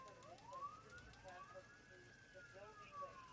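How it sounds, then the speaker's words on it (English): Police sirens wail in the distance, rising and falling pitch sweeps repeating steadily over a low background hum. "It's just police sirens anyway, is all you can hear."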